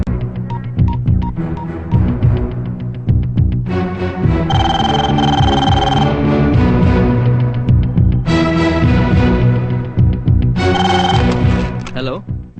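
A telephone rings in a dramatic scene from the Telugu film Sambaram, with loud repeated bursts of bright electronic trilling separated by short gaps, sounding alongside dialogue and background score.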